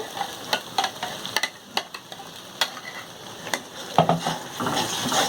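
Masala for an egg, potato and poppy seed curry is stirred in a pan, with sharp spatula clicks and scrapes at an uneven rhythm over a gentle sizzle.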